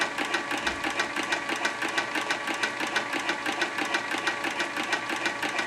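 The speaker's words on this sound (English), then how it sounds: "You want to get a nice even wind on the bobbin. As you can see, as the thread loads up on the bobbin," An Artisan Toro 3200 sewing machine winds thread onto its bobbin with a steady, fast mechanical whir and rapid rhythmic ticking that runs unbroken and fairly loud throughout, with no voices.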